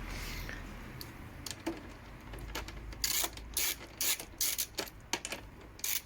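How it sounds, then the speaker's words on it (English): A ratchet fitted with a 10mm socket backs out bolts on a Kawasaki Vulcan S motorcycle, giving bursts of quick close clicking pawl strokes with short pauses between them, fairly quiet and with no talk. "Next you're going to need your 10mm socket with your ratchet, and you're going to remove these 2 bolts here."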